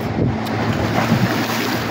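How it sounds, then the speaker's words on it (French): Sea waves roll onto the shore at the Salin de Hyères, with many waves and a steady wash of surf under strong wind buffeting the microphone, continuous and loud. "Alors là nous sommes au bord de la mer, au Salin de Hyères. Il y a beaucoup de vagues."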